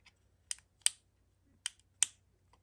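Button on an Aponuo solar dock lamp being clicked, four sharp, close, quiet clicks in two pairs with silence between them.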